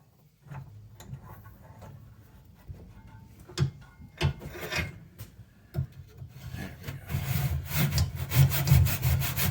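Handsaw cutting a clamped pinewood derby car block, starting with scattered scrapes and ticks, then building into a steadier, louder rasping back-and-forth stroke near the end, close and alone.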